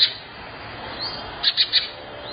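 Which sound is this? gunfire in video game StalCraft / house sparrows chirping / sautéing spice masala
house sparrows chirping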